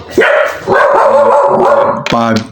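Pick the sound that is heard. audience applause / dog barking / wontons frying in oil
dog barking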